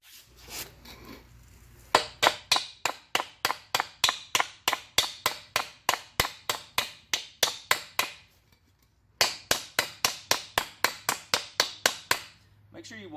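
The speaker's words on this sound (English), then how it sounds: "Just get my hammer and bump it in there" A hammer taps a wheel bearing into a Honda Accord hub in two long runs of evenly spaced, sharp metallic knocks, close and fairly loud, with a short pause between the runs.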